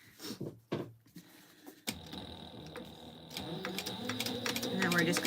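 A sewing machine topstitches the panels of a Firefly tote bag in bursts, its steady mechanical whirr starting near and growing louder, with a person talking over parts of it.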